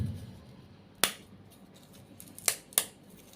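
Three sharp, crisp snaps of brittle banana chips breaking, one alone then two close together, each a quick bright crack against near silence.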